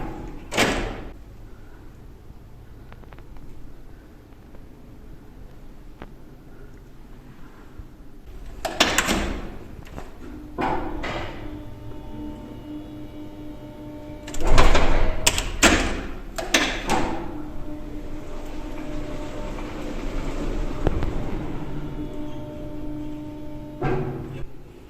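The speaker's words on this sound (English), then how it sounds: "Doors closing." Train doors sliding shut with several sharp thuds and slams spread across a quiet carriage hum, a couple of the impacts loud and close, others softer.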